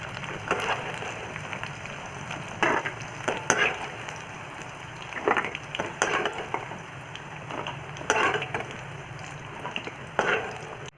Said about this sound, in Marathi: हे केळे छान आता फ्राय झालेले आहेत